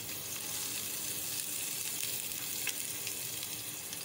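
Steady, close sizzle of garam masala and small green chillies frying in hot ghee, a continuous crackling hiss throughout with no talking.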